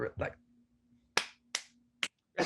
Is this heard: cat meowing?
no